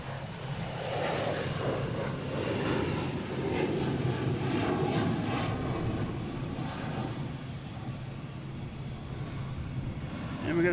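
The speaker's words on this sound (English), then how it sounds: "Next taking off is a Delta heading to Atlanta, flight 973 and A321" A Delta Airbus A321 on flight 973 takes off from Boston Logan for Atlanta with a sustained, rumbling jet roar that swells in the middle and stays steady, while a voice talks faintly beneath it.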